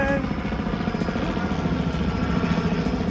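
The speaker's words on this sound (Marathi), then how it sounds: "हेलिकॉप्टर बघितलं का तू?" A helicopter passing over a park in Toronto, its pulsing rotor drone running steadily underneath while people talk nearby.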